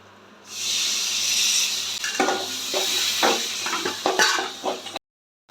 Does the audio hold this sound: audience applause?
no